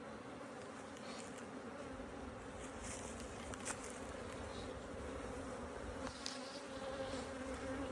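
Honey bees at a farm apiary buzz continuously, making a quiet, steady hum of many insects with no talking.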